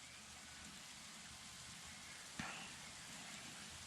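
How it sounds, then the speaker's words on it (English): Hail and icy pellets fall steadily outdoors after a drizzle at a deer camp, making a constant wash of fine patter, broken by one sharp nearby knock. "it's hailing pretty good out there"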